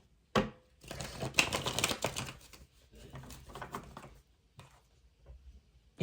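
Tarot cards are shuffled and riffled in bursts of quick papery patter, close and moderately loud, with short pauses between the shuffles and no talk.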